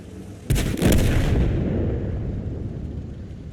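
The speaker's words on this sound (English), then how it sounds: "Shadow dumps over, gets 1 shot in there, gets shot by the T10" A tank cannon fires in the World of Tanks game on the Mountain Pass map, one loud sudden boom followed by a long rumbling roll that slowly fades.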